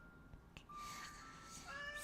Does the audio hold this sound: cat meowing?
yes